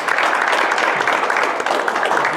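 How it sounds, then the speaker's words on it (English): An audience at a presentation applauds in a dense, steady wash of clapping that is fairly loud and continuous throughout, with faint voices mixed in. "How about we give Michael Solomon another nice round of applause?"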